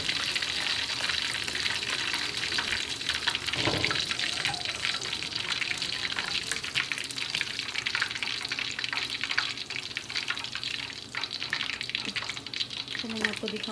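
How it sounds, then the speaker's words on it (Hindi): Fish pakora pieces frying in hot oil, a steady dense sizzle that holds loud and close throughout, with a brief clink of stirring partway through. "हमारी ये फिश का जो पीस था ये फ्राई हो चुका है।"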